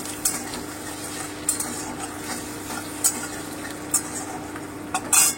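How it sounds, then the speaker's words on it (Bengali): Garlic paste is stirred in a hot pan for a fish kalia: a steady close sizzle runs throughout, broken by several sharp scrapes and clinks of a spatula against the metal, with no talking. "আমি একটু নেড়ে নেব হালকা করে।"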